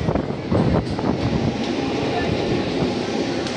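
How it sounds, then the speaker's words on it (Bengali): A train pulling into a station before a trip to Bagnan, its broadband rumble and rail noise steady and fairly loud throughout, with wind buffeting the microphone and a voice speaking over it. "তো গাইস ট্রেন এসে গেছে"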